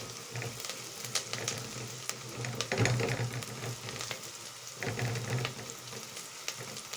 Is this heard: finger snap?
no